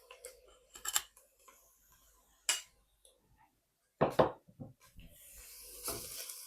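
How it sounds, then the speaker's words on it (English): Garlic dropped into a pan while cooking creamy tandoori chicken pasta, a few scattered metallic clinks and scrapes of utensil on pan, faint sizzle rising toward the end. "Going to add the garlic."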